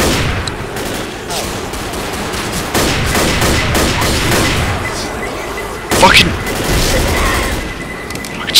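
Hunting rifle gunfire in the video game Left 4 Dead, with repeated sharp shots and a dense crackle of gunfire throughout, louder bursts near the end, under the talk of several players.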